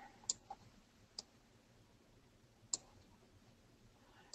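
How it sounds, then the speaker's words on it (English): A computer mouse clicks quietly several times at irregular intervals, with two clicks close together early on and another pair later, all over a near-silent background. "You can hold Control Shift and click to get another circle, then resize it"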